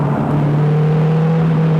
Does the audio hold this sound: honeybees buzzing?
no